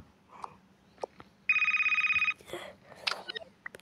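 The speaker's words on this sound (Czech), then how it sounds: "To byl telefon." A telephone rings once as a short burst of rapid, trilling electronic pulses lasting under a second, loud against a quiet room with scattered small noises and a brief voice afterward.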